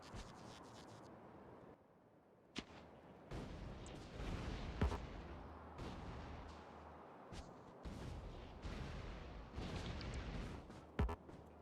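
Explosions in the Factorio Space Age video game, a dense run of booming blasts and crackling bursts layered over continuous game noise, with sharper loud hits standing out near the middle and end.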